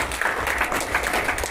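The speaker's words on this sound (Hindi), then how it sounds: "तालियां बजाओ उनके लिए" An audience claps for a child's dance performance at an Independence Day children's celebration, a continuous, fairly loud patter of applause.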